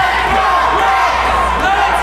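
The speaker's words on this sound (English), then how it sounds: "The audience here, screaming, cheering." A pro wrestling crowd at a Battle Arts show screams and cheers in one loud, continuous roar, many voices blending into a steady din with no pauses.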